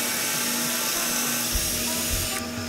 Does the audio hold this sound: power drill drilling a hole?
yes